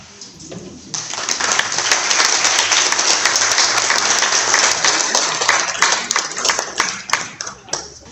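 A crowd at a book event applauds author Emily De Angelis after a reading from her novel The Stones of Burren Bay. The clapping swells in after a quiet first second and stays loud and sustained before thinning slightly near the end.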